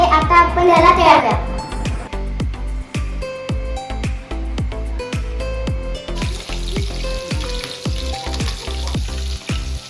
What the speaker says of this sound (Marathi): आता आपण याला तळूया।